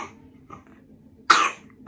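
A young child coughs once in a short, harsh burst, preceded by faint breathy throat noises in an otherwise quiet indoor room.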